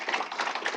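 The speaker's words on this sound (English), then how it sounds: "one big round of applause for our" A conference audience applauds the panelists with dense, continuous clapping from many hands, a brief burst at moderate level.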